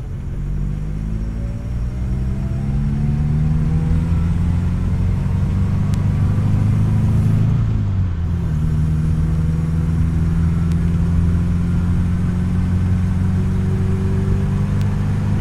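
A 1963 Alfa Romeo Giulia's engine drones steadily at cruising speed on a freeway with low road rumble, its pitch shifting slightly as the car shifts gears and continues along.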